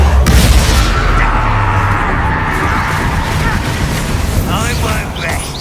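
A Confringo explosive spell in Hogwarts Legacy bursts with a loud booming impact at the start, then rumbling fiery crackle and combat noise that carries on steadily, with game dialogue beneath.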